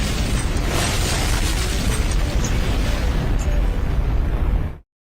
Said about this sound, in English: Another explosion for you, my man.